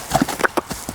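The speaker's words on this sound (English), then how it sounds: "Crazy horse." Hooves of a lively stallion at an equestrian yard clop in a quick, uneven run of several near strikes across about a second, with no voices over them.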